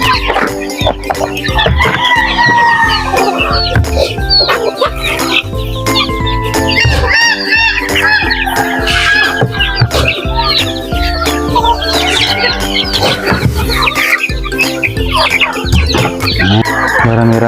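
Native chickens and chicks cluck, cheep and crow densely and loudly throughout feeding time on a farm, with overlapping calls and brief bursts of activity.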